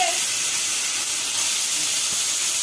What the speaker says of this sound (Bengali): এই যে এবার কড়াই আলুটা দেওয়া হচ্ছে, এবার আলু ভাজা হবে